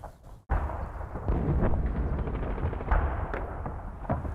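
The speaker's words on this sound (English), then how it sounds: "I really want to see this artillery fall." Artillery fire in the WWII Normandy war game Combat Mission: Battle for Normandy, a sudden loud blast followed by a sustained rumble of heavy impacts with several sharper crumping hits, close and dense.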